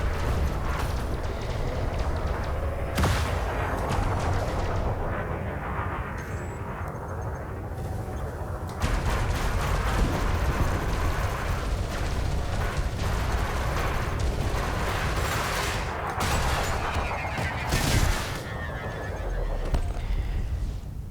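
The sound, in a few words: ship weapons fire during attack in video game Elite Dangerous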